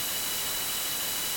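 Bright analog-style white noise from a synth noise layer, a steady, even hiss spread across the highs with no rhythm, heard alone at moderate level.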